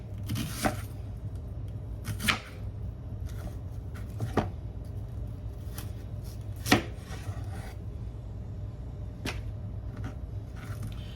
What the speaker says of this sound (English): I will cut up some more. I'll get another one ready to cut up.